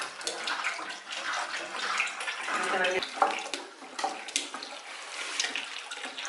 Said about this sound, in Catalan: ara ja anem a ficar l'oli. Ficarem 5 litres d'oli.